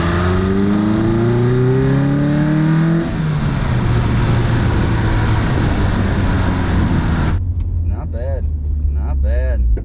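A 1996 Honda Prelude Si engine revs up and pulls hard through a corner, rising in pitch for a few seconds then holding a loud steady drone; someone talks briefly near the end over the engine.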